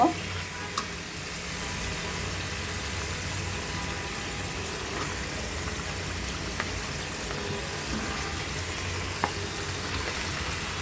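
Chicken meat sizzles and fries in oil with a cooked-down spice paste of onion and green chili, a steady close hiss with occasional faint stirring clinks throughout.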